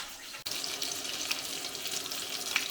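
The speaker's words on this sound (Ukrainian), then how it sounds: "олія вже розігрілася і ми відправляємо на сковорідку" Hiss and crackle of stuffed meat chops frying in hot oil in a skillet, a steady close sizzle with scattered pops, starting after a brief pause.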